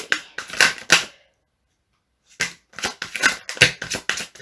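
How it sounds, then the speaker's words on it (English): A deck of tarot cards is shuffled by hand in quick crisp bursts, one short flurry, a pause of about a second, then a longer run of rapid riffling, close and distinct. "I'm going to do one last shuffle"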